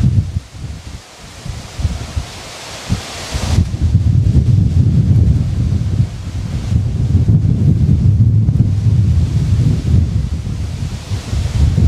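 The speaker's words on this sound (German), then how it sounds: "da sind schon so um die 50-60 km/h sind da die Böen schon drinnen" Strong wind gusts of about 50–60 km/h ahead of a thunderstorm near Mittersill, Austria, roar across the microphone after a short calmer opening, with rustling trees in a loud, continuous buffeting.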